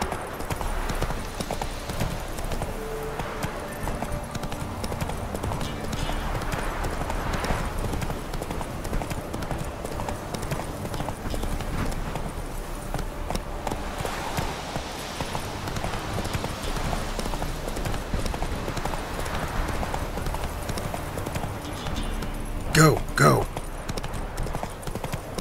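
A horse's hooves clip-clop steadily as it rides in The Witcher 3: Wild Hunt, a continuous rhythmic trot under game ambience with a short louder burst near the end.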